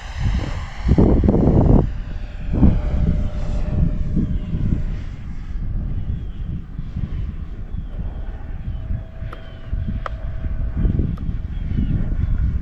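A Freewing Vulcan RC model jet flies overhead with a loud, steady engine roar and rushing wind, the sound swelling briefly near the start and then holding continuous.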